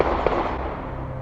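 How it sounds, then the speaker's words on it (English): A single sharp gunshot from a nearby rifle range cracks out early and then decays into a rumbling outdoor background. "You know, they're shooting right down there, and they're up this way."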